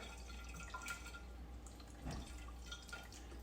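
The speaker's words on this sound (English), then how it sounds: "So I'm going to pour this vodka in here" Vodka pours from a bottle into a narrow jar over vanilla beans, a faint, continuous trickle with small splashy drips, close and without talk.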